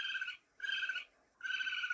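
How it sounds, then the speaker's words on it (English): Raccoon sound effect: three sustained, raspy trilling cries separated by short silences, steady and fairly loud, with no other sound around them. "this is a raccoon sound."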